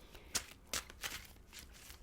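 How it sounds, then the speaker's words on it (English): Tarot cards shuffled in quick, sharp riffling bursts, about five soft snaps spaced unevenly over two seconds, close and fairly quiet with no voices. "2 more shuffles."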